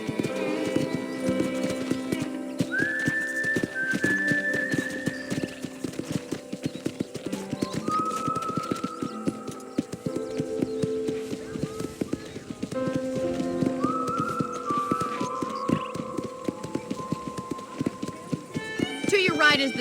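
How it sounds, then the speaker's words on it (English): Rhythmic clip-clop of a galloping horse in the video game Red Dead Redemption, steady and close, with a whinny and a voice talking over it. "I picked out a fine horse for you. Giddy up!"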